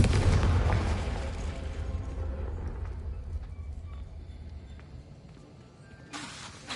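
A blasting spell from Hogwarts Legacy detonates with a loud boom and rumbling burst at the start, decaying into low roar and game ambience, with a brief sharper crackle near the end.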